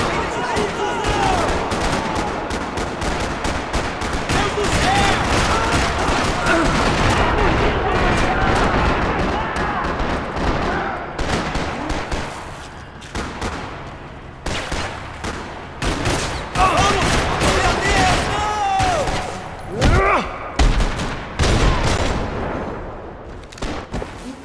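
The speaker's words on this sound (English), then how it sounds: "Another parking lot rattling with gunfire." Dense, sustained gunfire rattles through a parking lot in the video game Max Payne 3, with rapid overlapping bursts and booms that thin out into scattered shots, mixed with shouting voices and game sounds.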